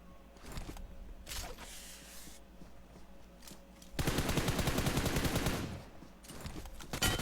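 Gunfire rattles in the PUBG Mobile video game: scattered single shots, then a rapid burst of automatic fire lasting about two seconds, followed by more shots.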